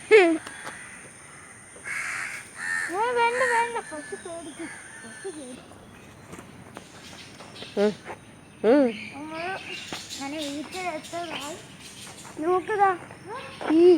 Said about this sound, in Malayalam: പശുവിന്റെ പുറത്ത് കാക്കി